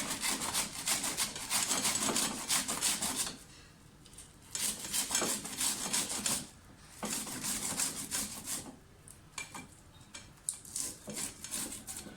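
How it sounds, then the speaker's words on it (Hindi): Cabbage rubbed against a hand grater in a home kitchen, heard as bursts of rapid, close scraping strokes that stop and restart between short pauses, with no talking. "इस कद्दूकस के साथ बहुत आसानी से आप जो मर्ज़ी वेजिटेबल्स बना सकते हैं।"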